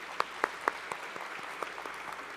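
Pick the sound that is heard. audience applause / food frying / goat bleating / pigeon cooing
audience applause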